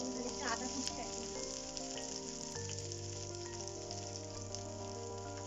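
Chopped onion and ginger sizzle in a pan for a vegetable curry, a steady, moderately loud frying hiss with light crackle, no voices.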